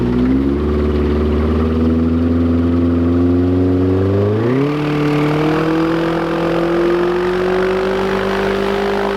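A 150HP Yamaha engine on a STOL Highlander aircraft idles loudly and steadily close by, then gives a quick throttle blip that lifts its pitch partway through and holds it higher.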